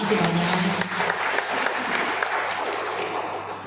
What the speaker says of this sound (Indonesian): Kasih tepuk tangan dulu buat mereka